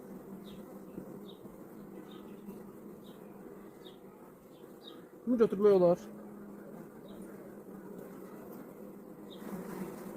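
Honey bees buzz in a continuous low drone around an open hive of a strong colony in hot weather, steady throughout while someone speaks briefly over it.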